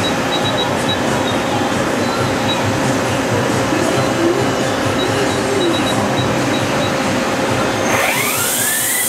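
An Okuma MC-4VAE vertical machining center spindle runs at 4000 RPM, holding a loud, steady mechanical whine and hum, with a brief sweeping rise in pitch near the end.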